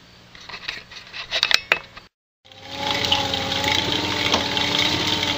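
An exercise bike pedaled slowly to spin a permanent magnet motor used as a generator, giving a steady whirring hum with tonal whine that starts after a brief silence, following a stretch of lighter mechanical clatter.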